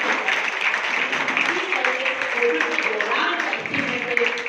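An audience at a women's leadership event gives a round of applause, dense steady clapping with voices mixed in throughout.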